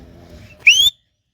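A loud, shrill whistle of a person rising in pitch, about a quarter second long, starting abruptly after a stretch of soft low background rumble and ending in silence.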